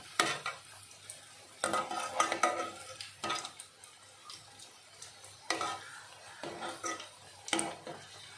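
Cabbage pakoda fritters fry in hot oil with a steady sizzle, while a metal spoon stirs and scrapes the pan in repeated clattering strokes, close and clear, with no talking.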